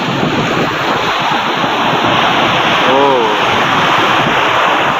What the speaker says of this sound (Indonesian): Yang ditakutin para pemancing ya. Ombaknya menggulung.